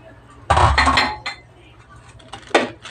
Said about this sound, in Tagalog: Tapos halo natin itong ating pangalawang gata.